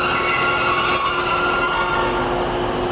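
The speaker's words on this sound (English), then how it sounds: "There's a Class 150 recently transferred from Great Western" A Class 150 diesel multiple unit passing on the Ordsall Chord produces sustained high-pitched wheel squeal over a steady rolling rumble, loud and close throughout with no voices.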